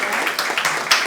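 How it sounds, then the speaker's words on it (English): Audience applause after a talk at a conference, a dense continuous wash of clapping held at steady loudness for about a second. "Big round of applause for our first talk of the day, Julie Phelps."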